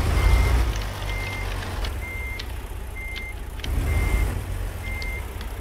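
Steady, evenly spaced reversing beeps from a truck backing a trailer loaded with a dozer in American Truck Simulator, ringing clearly over a low continuous engine rumble.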